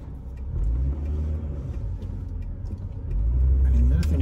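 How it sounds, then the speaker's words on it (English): A Honda Prelude Type SH, fifth-generation coupe, accelerates hard with a loud, steady engine drone from inside the cabin that swells toward the end; no speech over it. "So let's do one last pull here before we wrap up this video."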